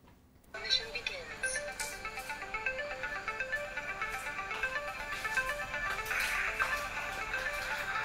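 A mobile phone rings with a repeating electronic melody, close and fairly loud, that starts abruptly and plays continuously, with people talking over it.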